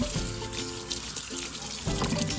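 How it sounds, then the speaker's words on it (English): Hot water pours steadily onto bihon rice noodles in a container, a close running splash that shifts in tone as it fills, with no voices. "pouring hot water"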